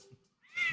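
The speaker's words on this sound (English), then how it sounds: "you just stress me out with your meowing in the middle of the night at 2 o'clock in the morning" A cat lets out a single meow late in the clip, rising out of near silence after a faint low murmur at the start.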